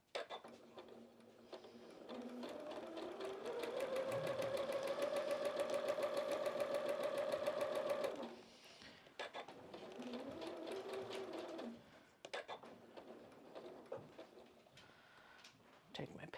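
A sewing machine stitches a sunflower quilt in two steady runs of rapid mechanical whirring, the first long and rising, the second shorter, with faint clicks and soft handling sounds between, close up.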